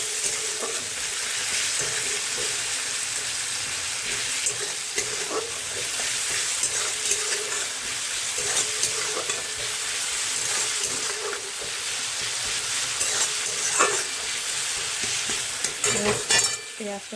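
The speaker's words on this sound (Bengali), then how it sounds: "পেঁয়াজ টমেটো ভাজা চলছে" Onion and tomato frying for a dal tempering, a dense continuous sizzle with frequent scraping stirs, close and fairly loud and heard alone.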